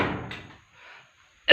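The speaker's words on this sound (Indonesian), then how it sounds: "Suara pintu ini yang tadi kayaknya yang bergerak konco-konco." An old door in an empty Javanese house gives a short creak and thud, then quiet, and a sharp knock or bang ends it, all close and fairly loud.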